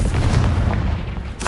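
A Confringo blasting spell goes off in Hogwarts Legacy, a short, loud, booming blast with a deep rumble that stays heavy for over a second.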